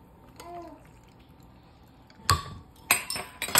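A watermelon paloma is strained into a glass over ice: clinking of ice against glass in a few sharp bursts, with a bit of faint babble and liquid sounds near the start.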